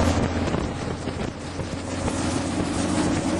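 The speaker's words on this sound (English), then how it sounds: "Windy!" Strong wind buffets the microphone while out ice fishing in the open, a loud continuous roaring rumble with no talk.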